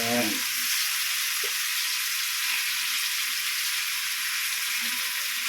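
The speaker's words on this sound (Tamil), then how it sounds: "விரால் மீன் வறுக்கிறோம்" Pieces of murrel fish fry in a pan of hot oil, producing a strong, even, close sizzle that runs throughout with a brief clatter at the start.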